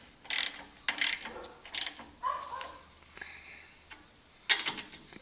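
A bolt being threaded down into a hole on a Porter Cable 14-inch band saw, with quiet, close ratcheting clicks in short bursts and pauses, with no talking.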